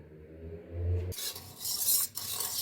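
A milk, oil, sugar and yeast mixture is whisked in a bowl, giving a loud, steady scraping and rasping that begins abruptly about a second in and runs continuously to the end, with no talk.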